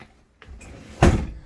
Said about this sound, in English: you do also have a drawer underneath right here